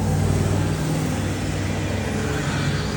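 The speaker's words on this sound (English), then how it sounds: "there are some loud cars in this neighborhood" A loud car on a neighborhood street, its engine a steady rumble with a broad road roar, fairly distant and continuous, with no one speaking.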